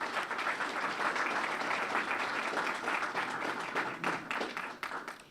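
A community meeting audience applauds a men's club in a steady, dense wash of clapping that holds for several seconds at moderate distance, then thins slightly near the end.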